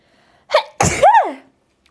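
A single sharp sneeze with a short intake just before it, loud and close, then silence.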